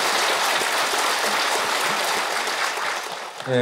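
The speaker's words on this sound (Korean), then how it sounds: "우리 모두 다시 한번 힘찬 박수로 경배받았으면 좋겠습니다" Sustained, dense applause from a temple audience at a Buddhist memorial service and abbot installation ceremony at Gilsangsa, loud and steady for the whole stretch before tapering slightly at the end.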